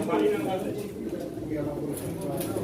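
Soft pigeon cooing rises under steady crowd chatter at a pigeon auction in Çorum, the birds close and intermittent against the background talk.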